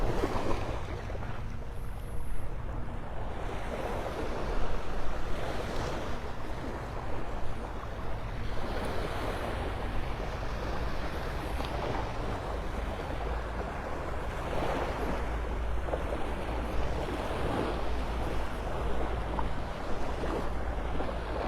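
Steady ocean surf rolls in at Vanderbilt Beach in North Naples, Florida, a continuous wash of waves mixed with wind buffeting the microphone, no voices.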